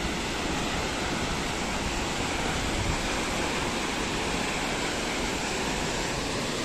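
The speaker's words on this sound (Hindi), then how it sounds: "पानी जब जोश में हो तो उससे वहशत भी होती है" Rough, rushing water roars loudly and without a break on a cold day outdoors, a dense, even wash of noise with no voices over it.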